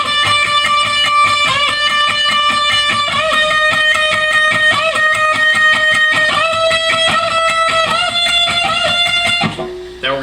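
Distorted electric guitar playing a fast lead solo for a song, with rapid chromatic picked runs and sustained bent notes, loud and continuous before cutting off abruptly near the end.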